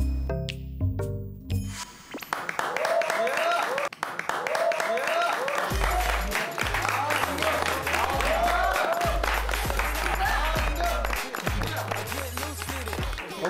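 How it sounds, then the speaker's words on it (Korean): A group of young trainees claps and cheers during a talent-show team segment, with lively applause running beneath music and background chatter. "박수 쳐, 박수 쳐."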